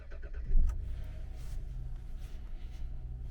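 A Jaguar S-Type 3.0 engine cranks and catches with a short loud burst, then settles into a steady low idle rumble close by, with no voices.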